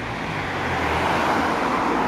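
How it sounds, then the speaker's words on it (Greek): A car drives down a one-way street in Kifisia, a steady broadband rumble of tyres and engine that swells slightly as it approaches, with no other sounds over it. "Να και ένα αυτοκίνητο που κατεβαίνει."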